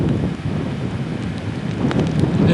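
Strong, cold wind at an outdoor house construction site on about a 39-degree day, blowing in a steady loud rush with buffeting against the microphone and no voices.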